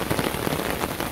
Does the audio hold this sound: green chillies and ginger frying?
no